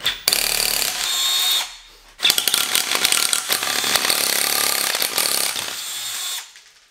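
A Bosch GFA12-H cordless drill bores a 6 mm hole into a hollow concrete block. The loud, rough grinding comes in two bursts with a short pause between them, and there is no speech.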